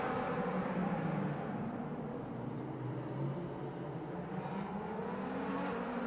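DTM race cars from the 2012 Munich round run close past a wall, a steady loud roar of engines with passing whir, continuous and without talk.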